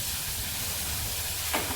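Home-grown curry leaves drop into hot tempering oil for amti, giving a steady close sizzle throughout with a brief sharper hiss burst near the end.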